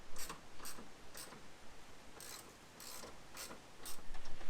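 A ratchet wrench clicks in short bursts while backing out 10mm bolts from the EGR valve on a Renault Trafic, Vauxhall Vivaro or Nissan Primastar 2.0 dCi van, the rapid clicking repeating close by between pauses.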